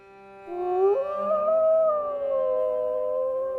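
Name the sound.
dog howling in the distance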